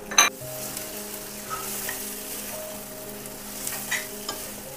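Eggs frying in oil in a pan for a prawn and drumstick egg dish, a steady close sizzle with a sharp clatter at the start and occasional scraping stirs throughout.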